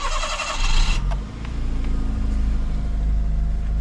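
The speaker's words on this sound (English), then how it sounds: "Here's a cold start." A 1998 Daihatsu Opti Aerodown Beex with a turbo engine cranks and fires on a cold start, a brief loud starter burst settling at once into a steady, low, quiet idle rumble that holds close and even.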